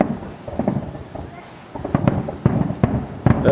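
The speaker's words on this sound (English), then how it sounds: "That's the grand finale going off right now, ladies and gentlemen." Fireworks grand finale booming in October at Turtle Bay, a rapid run of deep distant thuds and crackles that grow more frequent and louder, with a faint rain-like hiss between bursts.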